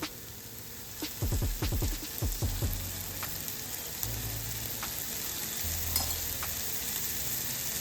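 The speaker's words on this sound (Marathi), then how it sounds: "कांदा टमाटो भाजून झालं, आता त्याच्यात तेल टाकूया।" Oil poured into onion and tomato already frying for egg bhurji, a steady sizzle broken by a quick cluster of spoon scrapes and clinks against the pan, then continuous close frying hiss.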